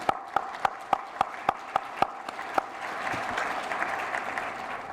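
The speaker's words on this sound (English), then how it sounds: "worthy of a round of applause" An audience at an annual meeting bursts into applause, opening with a run of distinct, evenly spaced claps before swelling into a steady, dense wash of clapping from many hands.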